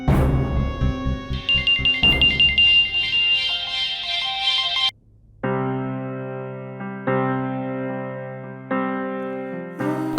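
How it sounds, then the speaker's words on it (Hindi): A mobile phone ringtone plays loudly and alone, a bright electronic melody that repeats in steady looping phrases, with a brief break midway before the ringing starts again. "किसका फोन है? अभय का। बार बार फोन कर रहा है।"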